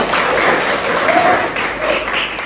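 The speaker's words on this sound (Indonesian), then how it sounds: "Tepuk tangan dulu untuk kita semua." A seventh-grade social studies class in Indonesia breaks into applause, a brief, dense patter of many hands clapping close by, mixed with some murmured voices.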